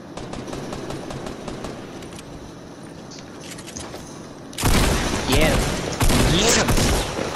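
Gunfire in the battle royale game Fortnite: steady clattering shots at moderate distance, then a loud, close burst of heavy firing that keeps going to the end, with a voice talking in the background.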